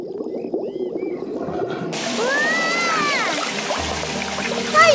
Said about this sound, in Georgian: დედიკომ კი წყალი მოუშვა.